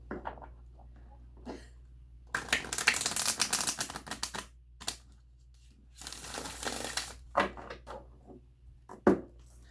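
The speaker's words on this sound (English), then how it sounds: "one more shuffle, then we'll get started" Tarot cards riffle-shuffled in two long bursts of rapid flapping, followed by a few short taps and clicks as the deck is squared, with no talking.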